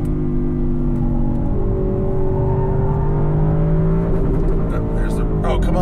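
A 2020 Audi RS6 Avant engine revs hard under acceleration, loud and continuous from inside the car, its pitch climbing and then dropping sharply as gears shift.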